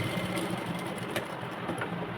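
A sewing machine runs steadily while stitching a baby frock for a 2-3 year old, giving a quick, even mechanical whir with faint ticks, fairly quiet and with no talk.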